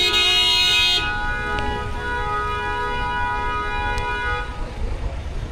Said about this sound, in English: that's how they honk the horns, because everyone's on their cell phone